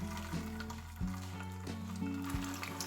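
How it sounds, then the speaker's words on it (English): Potato-wrapped prawns dropped into hot frying oil give a steady, broadband sizzle with bubbling crackle throughout, some low hum beneath and a few soft thuds as pieces go in. "Once oil is heated, gently drop these into the hot oil."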